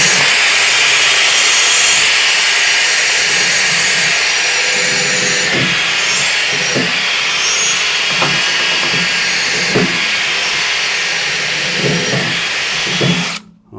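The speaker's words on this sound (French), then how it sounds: "Je cherche la visseuse, une brosse métallique pour nettoyer tout ça." A wire brush spun by a power screwdriver scrubs a car's rear wheel hub on a Peugeot 107, Citroën C1 or Toyota Aygo, a loud continuous whirring grind with brief scraping bursts that stops abruptly at the end.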